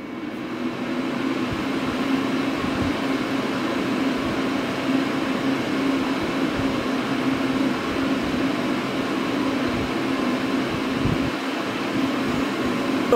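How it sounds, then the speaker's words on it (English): An electric fan runs steadily to drive a small wind turbine for a torque test, a continuous loud whirring hum with a low steady tone and no pauses or speech. "Turn on the fan, read the grams."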